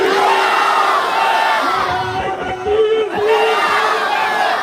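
A large crowd at a political rally chants slogans in unison, a loud sustained roar of many voices rising and falling together throughout.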